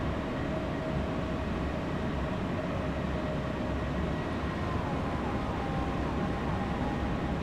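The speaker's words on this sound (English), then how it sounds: "Oh, another train." Another train passes close by on the line toward Eastbourne, a loud, continuous rumbling roar with rail clatter and a faint tonal whine sustained throughout, with no talk.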